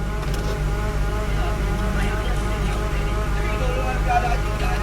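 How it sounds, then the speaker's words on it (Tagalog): A car with a rough idle problem runs noisily while stationary, a steady low, buzzing engine drone that holds even and fairly loud throughout. "medyo maingay yung makina"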